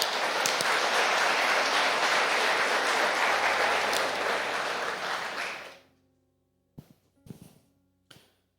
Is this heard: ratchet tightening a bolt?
no